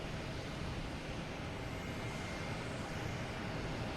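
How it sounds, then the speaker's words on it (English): A JetBlue Airbus A320 on its takeoff run from runway 9 at Boston Logan Airport, heard as a loud, steady, broad engine roar that holds constant throughout, with no voices. "we got JetBlue taking off, runway 9, heading to Tampa. An A320, there it is."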